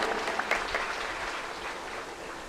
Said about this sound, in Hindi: इस बात के लिए एक बार फिर से जोरदार तालियां।